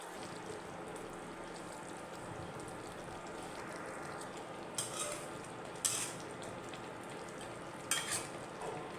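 Pieces of black pomfret go into a simmering onion-rich curry gravy, giving a steady low sizzle and bubbling with a few faint clinks of utensils.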